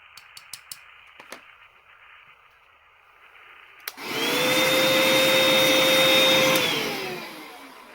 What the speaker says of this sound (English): So it's like a rotating brush then, wire brush.